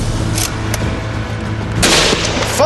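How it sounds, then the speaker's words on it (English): British rifles firing ten rounds rapid fire, several sharp booming shots in quick irregular succession, loud and close, the last volley strongest, with no speech. "10 rounds rapid fire!"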